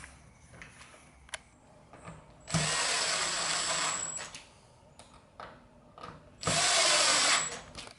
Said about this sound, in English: all I do is just drive those screws